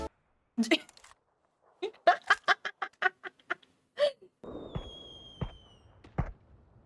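Gunshots in the video game PUBG fire as a few sharp, booming shots spaced about a second apart over a thin whistling tone, after some earlier clipped sounds.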